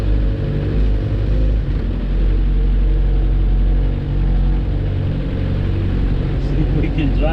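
A Suzuki Samurai engine pulls away in first gear, a loud, close, continuous low rumble that holds steady throughout.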